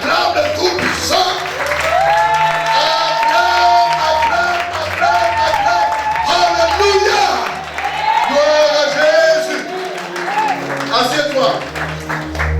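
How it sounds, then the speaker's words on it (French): A church congregation at a Pentecost service standing, cheering and clapping, a loud sustained crowd roar with whoops and continuous applause, over music and amplified voices. "Tiens-toi debout, acclame le Tout-Puissant."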